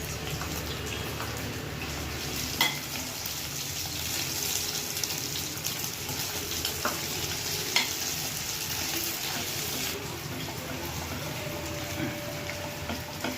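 Ginger garlic paste frying in a pan with green chilli for lemon rice, a steady close sizzle and bubbling with occasional stirring clicks throughout.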